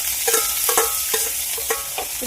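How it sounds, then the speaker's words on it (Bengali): Boiled fish and chopped garlic fry in hot oil while a utensil stirs the pan, giving a steady sizzle broken by several quick scraping strokes in an uneven rhythm, close and fairly loud, with no talking. "তো এটা হালকা ফ্রাই করে নেব"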